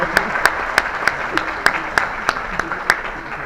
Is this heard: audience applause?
yes